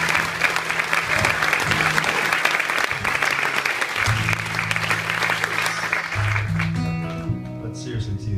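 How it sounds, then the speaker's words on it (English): A concert audience claps steadily for several seconds at a show in Bridgwater, a dense wash of hands that fades near the end as a voice starts speaking and a tone hums beneath. "Would you give them a clap and say thank you?"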